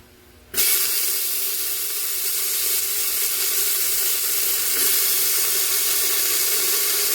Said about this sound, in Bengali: এখন আমি লাউ শাক আর আলুটা দিয়ে দেবো।